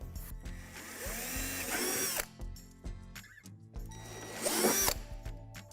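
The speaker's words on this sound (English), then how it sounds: "Now drill out the 2 divots on the back edge of the sink." A power drill bores divots into the back edge of a plastic playhouse sink, two separate bursts of whining, chattering drilling with quiet handling noise and clicks between them.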